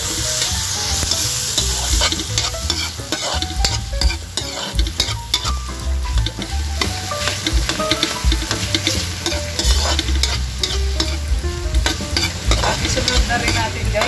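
Garlic, onion and tomato sauté in a hot pan for sinigang na bangus sa miso, with a loud, steady sizzle and frequent stirring scrapes close up throughout, no voices.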